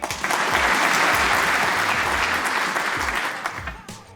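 A steady round of applause from a group, dense clapping holding at an even level for about four seconds before tapering slightly at the end, with low murmurs underneath.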